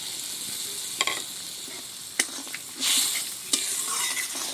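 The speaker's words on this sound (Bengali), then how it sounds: "আমার চিংড়ি মাছটা খুব ভালোভাবে ফুটে উঠেছে।" Prawn curry cooking in a pan gives off a steady sizzle and bubble, with a few sharp utensil knocks and a louder hissing burst partway through. No one speaks.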